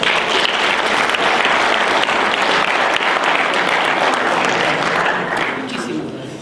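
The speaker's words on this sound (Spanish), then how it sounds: "quisiera que le demos un fuerte aplauso." Loud, dense applause from an audience at a criminal justice event in Latacunga, Ecuador, a sustained roar of clapping that stays strong throughout and fades slightly at the end.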